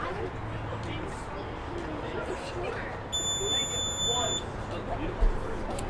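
A timer buzzer sounds during a wiffle ball game, a steady electronic tone starting about halfway through and holding for over a second above continuous crowd babble and field noise.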